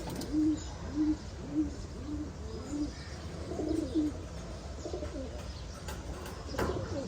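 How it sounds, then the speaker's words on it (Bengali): A pigeon cooing outdoors in soft repeated bursts, fairly faint and distant, with a steady low background hum and no talking. "আমার কবুতর আরো উঁচা উঠে যেতেছে।"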